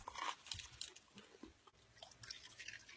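Food crunched and chewed in a classroom: repeated close, crisp bites and crunches in an irregular rhythm, fairly loud and steady for a few seconds, with no talk.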